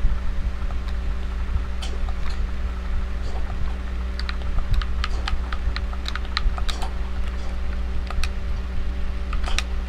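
Clicky computer keyboard keys tapped in quick irregular bursts at moderate volume, steady background hum underneath, no talking.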